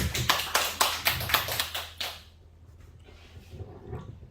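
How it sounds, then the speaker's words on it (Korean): A church congregation claps in rhythm: about eight sharp, evenly spaced claps for two seconds, then the sound drops to a quiet room murmur. "박수 부탁해요."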